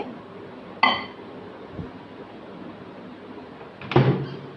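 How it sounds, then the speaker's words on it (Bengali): A chocolate mug cake going into a microwave oven: two sharp clinks and knocks about three seconds apart, like the door opening and shutting, with quiet room tone between. "এই তো কেকটাকে আমি কিন্তু ওভেনে দিয়ে দিচ্ছি।"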